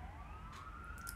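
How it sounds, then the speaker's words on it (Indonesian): Ambulance siren passing outside during an indoor live stream, a faint, steady rising wail heard at a distance under low room noise, with no talk. "Iya nih ambulan mulu dari tadi"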